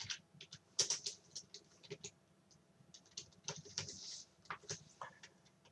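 Fingers typing steadily on a computer keyboard while entering an Excel formula, with close, quiet clicky keystrokes in uneven bursts and short pauses, with no voice.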